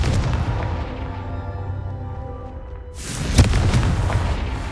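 Confringo fire spell from Hogwarts Legacy, a sudden loud booming blast that cuts in after a stretch of droning game ambience and rumbles on with a sharp crack at its peak.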